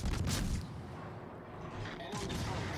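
Main battery guns of a warship in World of Warships: a heavy booming salvo at the start, a lower rumble, then another blast, with game noise and a faint voice underneath.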